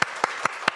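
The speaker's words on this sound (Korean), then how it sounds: "박수 한번 칠까요?" Four separate sharp claps spaced evenly apart, close and moderately loud, each one a short crisp burst rather than full crowd applause.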